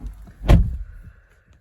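The door of a Volkswagen Touareg 3.0 V6 TSI R-Line shuts with a single solid thud, close and distinct against a quiet interior.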